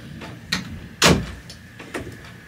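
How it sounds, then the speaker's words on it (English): A door being shut indoors, one sharp loud thud near the middle framed by a few softer knocks and bumps, close by and without talking. "She said don't shut the door."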